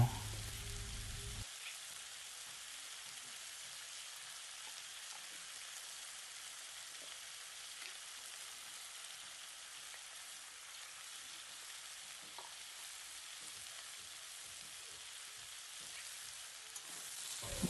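Bottle gourd leaves and spinach sizzle steadily in a hot pan with cumin, chilli powder, turmeric and salt, a constant frying hiss with faint scrapes from stirring throughout.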